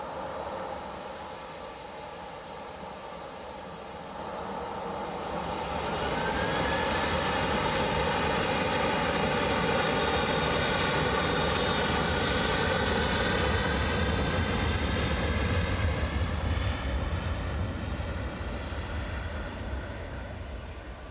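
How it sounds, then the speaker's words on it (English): A Jet2 Boeing 737-800 departs Manchester Airport bound for Corfu, its jet engines spooling from a distant whine into a loud, sustained roar that holds, then eases slightly as the aircraft climbs away. "Jet2, 737-800 lined up, ready to go."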